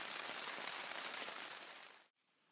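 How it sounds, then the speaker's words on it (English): Steady rain falls on a muddy mountain trail along the Highline Trail, a dense close hiss that holds for about two seconds before cutting off abruptly into near silence. "It continues to rain."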